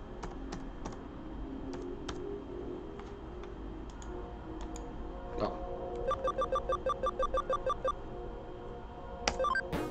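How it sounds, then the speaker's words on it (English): Typing on a computer keyboard during a Digimon Story Cyber Sleuth gaming session: scattered sharp key clicks, then a fast even run of keystrokes near the end, close and clear with no voices. "Gotta use my keyboard a lot."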